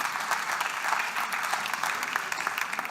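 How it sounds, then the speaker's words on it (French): A seated audience at a live crowdfunding pitch event gives dense, steady applause, many hands clapping close together at full volume for the whole stretch. "applaudissements pour Émeric"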